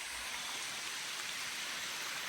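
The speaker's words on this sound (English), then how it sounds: "this rain's not been that hard, even though it's been coming down good for a while" Rain falls on the Appalachian Trail in Virginia as a soft, even hiss of drops, faint and steady throughout with no voices.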